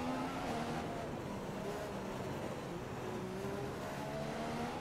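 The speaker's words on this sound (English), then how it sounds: "I like the sound of the car." A McLaren Honda Formula 1 car in the F1 2015 racing game drones steadily throughout, its engine tones gliding up and down over a constant broadband roar with no talking.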